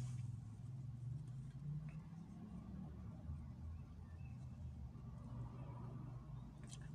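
Low, steady engine drone heard from inside a moving car, a constant rumble with faint road noise and no talking over it.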